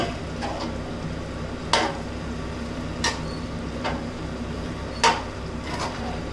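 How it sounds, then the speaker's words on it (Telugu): Chicken sizzles steadily as it fries in masala for a Guntur-style chicken pickle, with a spoon scraping and clinking against the pan every second or two; no one speaks. "దాన్ని బాగా ఒక 2 నిమిషాలు మసాలాలో వేపిద్దామండి."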